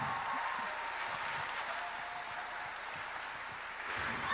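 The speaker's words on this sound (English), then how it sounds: "let's keep the applause going as we bring out the panelists for today" A live audience at a gaming expo panel gives sustained, dense applause as a panelist comes on stage. The clapping is loud and steady throughout and swells slightly near the end.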